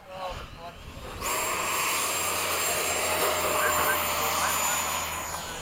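An FMS 70mm F/A-18 model jet with an electric ducted fan spools up for takeoff at a flying field, going from quiet to a loud, sustained rushing whine within about a second. Voices can be heard nearby.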